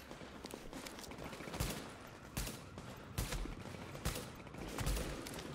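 Pistol gunfire in the video game The Division, scattered single shots spaced a second or so apart, fairly faint over a busy background of game noise.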